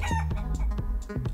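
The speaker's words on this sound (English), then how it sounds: "As you can see, there's little chickens in there, and they're getting heated by the campfire." Chickens cluck in rapid, choppy bursts inside a Minecraft world, close and clear with no talking over them.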